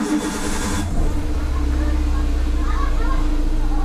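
A Suzuki Karimun Estilo car engine hums steadily during a test drive, a smooth low drone inside the cabin with road noise, while people talk over it.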